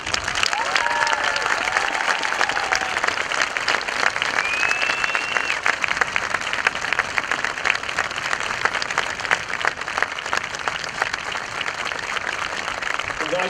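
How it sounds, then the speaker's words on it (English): A large commencement audience at a 2017 high school graduation gives a sustained round of applause for scholarship recipients, dense even clapping filling the hall at a steady level, with faint voices and a few whistles mixed in. "At this time, I'd like all the scholarship recipients to stand for a well-deserved round of applause."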